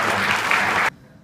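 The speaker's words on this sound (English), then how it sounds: "Please join me in another round of well-deserved applause for City of Yuma's leadership." Audience applause at a city inauguration ceremony in Yuma, a brief burst of dense clapping from a crowd that stops abruptly partway through.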